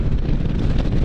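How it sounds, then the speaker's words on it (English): Steady, heavy wind buffeting the microphone, a continuous low rumbling roar with no pauses and no voices. "It's a very windy January 11th."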